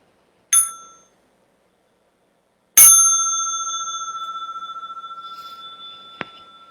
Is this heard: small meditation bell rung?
yes